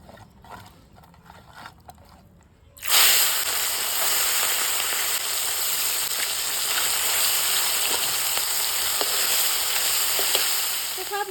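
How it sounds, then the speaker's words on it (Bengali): Fish hits hot oil and a loud, continuous sizzle bursts in after a quieter start, then holds close and even with light crackling throughout. "মাছ ভাজাভাজি হয়ে গেছে"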